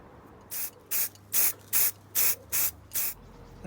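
An aerosol can sprays paint onto a brake caliper bracket during a rear suspension refresh, in seven short, evenly spaced bursts of hiss, close and fairly loud.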